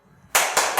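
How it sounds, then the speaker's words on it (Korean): At a dental association public hearing, two or three sharp, close bursts of clapping break a quiet pause. "너무 박수가 커."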